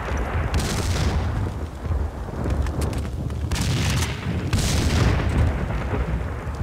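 Dense booming blasts in the video game Max Payne 2 fill the whole stretch, loud and continuous, in rolling waves of rumble and crackle with no voices.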